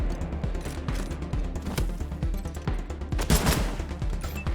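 Rapid bursts of gunfire from a firefight in the post-apocalyptic video game Wasteland 3, with repeated sharp shots and volleys over a dense, continuous combat soundscape.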